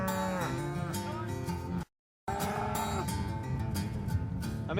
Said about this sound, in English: See, you've got the cattle going in the right direction now.